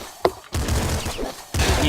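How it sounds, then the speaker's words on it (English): An auto shotgun fires in the video game Nuclear Throne: a sharp early shot, then two loud, crunchy bursts of blasts with a brief gap between them, close and punchy. "So, this is the auto shotgun, if you guys couldn't tell."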